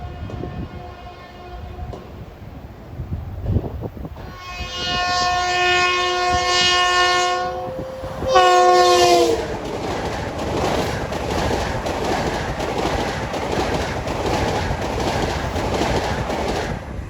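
An M7 electric multiple-unit commuter train on the Port Jefferson Branch sounds its horn in two long blasts as it approaches westbound, then roars past at speed with steady rail clatter.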